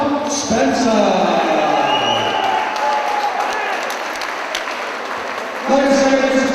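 A fight-night crowd applauds a challenger, with a steady wash of clapping and a few cheers running underneath a loud announcer speaking over a PA throughout.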